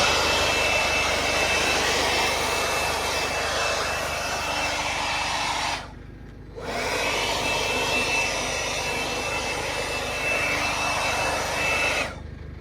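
A blower blasting debris off a machine's rotors runs as a steady loud roar, cuts out briefly and restarts, then stops near the end.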